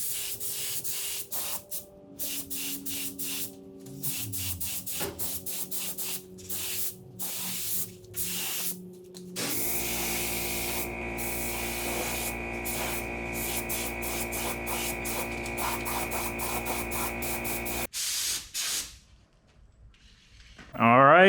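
Spray paint hisses in repeated bursts as a car engine bay is coated, short blasts with pauses giving way to longer continuous spraying, recorded close over a steady background hum.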